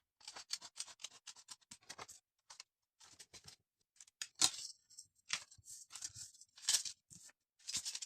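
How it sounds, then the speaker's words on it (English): Scissors snip through paper for a handmade coin envelope in quiet, close, irregular cuts, with short crisp clusters of snipping separated by brief pauses. "And then I need to cut the four sides of that paper."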